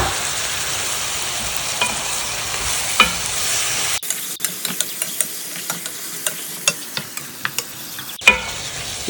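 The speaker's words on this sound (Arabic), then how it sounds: "نقلبه كده لحد ما تطلع المويه منه" Shrimp cook in a pan as they are stirred, with a hiss of frying and a run of sharp scraping and clinking strokes in the second half.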